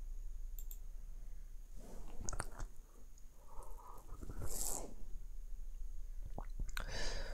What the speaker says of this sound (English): you can simply click on buy now